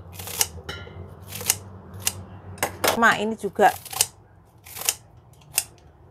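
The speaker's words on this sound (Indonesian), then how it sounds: "Saya cuman gunting saja di bagian sini." Kitchen scissors snipping through water spinach (kangkung) stems in sharp, separate clicks spread at steady intervals, close and crisp, with brief talk in the middle.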